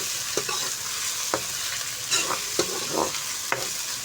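Garlic, ginger and coriander paste being stirred in a pan with a spoon, a soft steady sizzle broken by several distinct scraping strokes, quiet and close.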